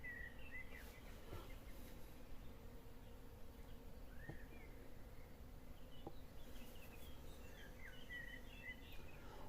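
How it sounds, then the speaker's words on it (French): A faint, steady honeybee buzz from a bee stuck near a Mini Plus beehive hums low beneath quiet outdoor ambience, with occasional distant bird chirps scattered throughout. "On entend l'abeille, elle doit être là, tout part vers moi."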